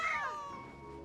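A cat meows once in the video game Genshin Impact, a clear, close, high call that bends downward and fades away.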